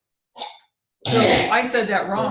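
One short, sharp sneeze comes from a person, followed after a brief pause by continuous talking.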